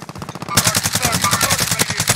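Rapid automatic gunfire from Mac10 and Grau weapons in a Warzone match, a dense rhythmic burst of shots, loud and close, continuing throughout.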